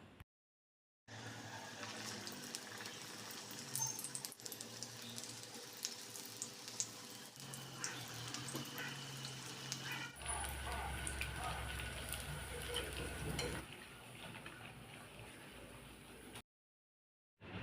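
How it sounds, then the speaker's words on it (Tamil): Plantain slices dipped in bajji batter fry in hot oil for tea-stall style fritters. A steady, close sizzle and crackle runs throughout, swelling when a new piece goes in, with short silent gaps at the start and end. "வாழைக்காய் ஸ்லேஸ் 1 எடுத்து இந்த மெத்தடில் பஜ்ஜி மாவில் டிப் பண்ணி சூடான ஆயிலில் போட்டுற வேண்டியதுதான்"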